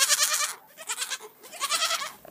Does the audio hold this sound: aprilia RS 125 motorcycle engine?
no